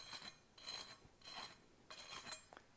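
Crispy toasted garlic bread crunches and crackles faintly in four or five quick, dry bursts, a soft close-up rasp with short pauses between them.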